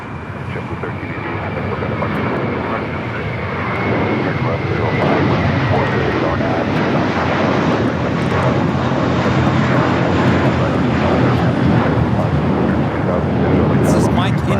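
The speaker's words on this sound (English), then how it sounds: "Next takeoff is a flight heading to Boston, flight 1388, JetBlue. It's an A321." JetBlue Airbus A321 jet taking off from Los Angeles airport, a roar that swells over the first few seconds and then holds loud and continuous, with a voice speaking over it.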